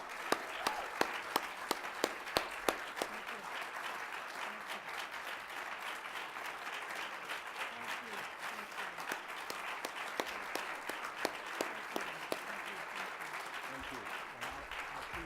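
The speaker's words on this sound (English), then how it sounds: "And I'd ask everyone to join me in a final round of applause." Sustained audience applause after a keynote address, a dense, even wash of many hands clapping that continues steadily for the whole stretch, with individual claps standing out near the start.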